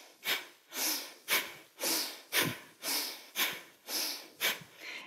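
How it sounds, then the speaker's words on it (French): Forceful rhythmic yoga breathing, nine sharp nasal exhalations in a steady pulse about every half second, close and clear with no talking. "utilise le mouvement tonique et la respiration tonique pour expirer, expulser tout ce que tu as besoin d'évacuer ici."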